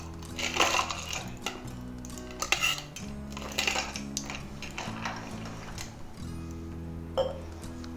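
Ice cubes clatter and clink into a glass holding a Bloody Mary cocktail, a series of close, sharp knocks and rattles spread over several seconds with a low steady hum underneath.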